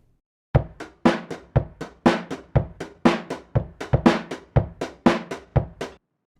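A basic live drum groove runs through the RC20 Retro Color plugin, which makes it mono, adds vinyl noise and wobble, and lightly distorts it. Steady kick and snare hits repeat evenly and stand alone, close and slightly dulled.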